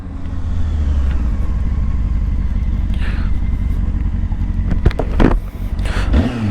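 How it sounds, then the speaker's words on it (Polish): A Honda Hornet 600 motorcycle on a rainy day idles close by, its engine a steady, loud low-pitched burble with a vacuum-cleaner-like whir, ending in a few short throttle blips. "Ona tak ciekawie chodzi, bo tutaj na, na wolnych obrotach taki odkurzacz, nie?"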